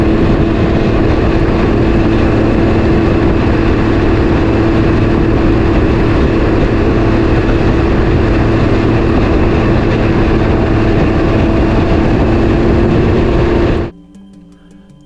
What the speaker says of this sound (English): here's one example of going slow and sounding like you revved way too high